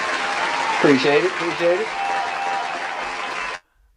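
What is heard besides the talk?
audience applause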